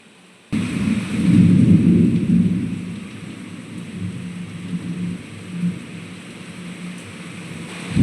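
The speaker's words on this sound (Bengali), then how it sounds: "কি সাংঘাতিক বৃষ্টিটা শব্দটা শুনুন" Heavy thunderstorm rain over Durgapur's Steel Township: a loud low thunder rumble swells in the first few seconds and then fades, while a steady dense roar of rain continues throughout, with no voices.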